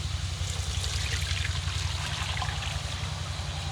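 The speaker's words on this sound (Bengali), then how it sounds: "তিন মিনিটের জন্য যে গরম পানিতে রাইস নুডলসটা দিয়েছিলাম সেটি এখন পানি ঝরিয়ে নেব" Hot water drains off rice noodles that soaked for three minutes, giving a steady close trickling pour that fills the whole stretch with no voices.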